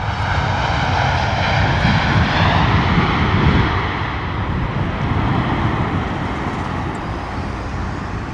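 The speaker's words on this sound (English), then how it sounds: "Beautiful arrival there from that 787-10 Dreamliner" A Boeing 787-10 Dreamliner lands at London Heathrow in wet, windy conditions, giving a loud, continuous engine roar with a faint whine on top, sustained throughout with no voices.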